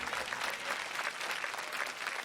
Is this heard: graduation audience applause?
yes